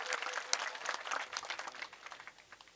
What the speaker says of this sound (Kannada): ಜೋರಾದ ಚಪ್ಪಾಳೆ ಮೂಲಕ ಸ್ವಾಗತ ಮಾಡಿಕೊಳ್ರಿ